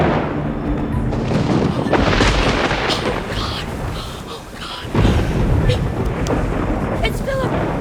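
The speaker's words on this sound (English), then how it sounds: "the thunder." Rolling thunder rumbles through a stormy night with rain, a deep continuous roar that swells again near the end, loud and unbroken with no talking.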